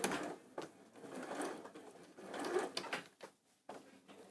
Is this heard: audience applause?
no